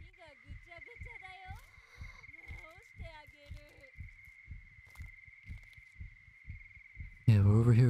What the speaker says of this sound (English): Wait, her heartbeat's getting faster